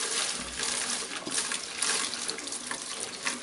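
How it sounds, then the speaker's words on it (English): Water poured and splashing over the units of a 1947 Nuffield grader left parked for 20 years, a short close-up gush with small metallic clinks. "pour it over the unis, mate. Give them a wash."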